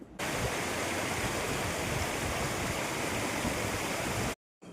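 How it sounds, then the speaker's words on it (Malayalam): A steady, full rush of a small stream pouring over rock at Jellippara, Kerala, close and constant, cutting out abruptly near the end before resuming. "ഒരു കുഞ്ഞ് അരുവിയാണ് കേട്ടോ വെള്ളച്ചാട്ടമായിട്ട് ഈ പാറയിൽ ഒഴുകി വരുന്നത്."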